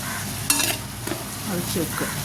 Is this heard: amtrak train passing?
no